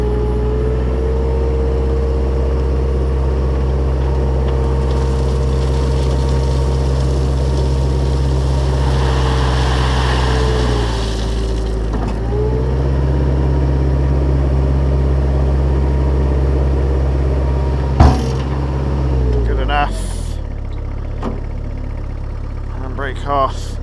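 A digger engine out of gear drones loudly and steadily, swells as it is revved, then settles back. Metallic clanks of the machinery follow near the end.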